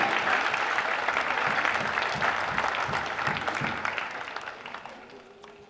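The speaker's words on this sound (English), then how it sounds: "Let's give them all another big round of applause." Crowd applause at a secondary schools national basketball championship, a sustained round of clapping for officials and volunteers that fills the hall and slowly fades toward the end.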